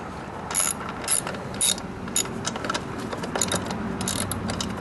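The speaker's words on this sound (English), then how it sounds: "you can start to screw the bolt in with the socket." Socket ratchet turning a muffler bolt on a Chinese scooter gives bursts of quick metallic clicks, close and clear, repeated in short runs.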